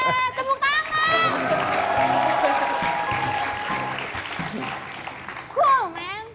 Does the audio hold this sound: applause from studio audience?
yes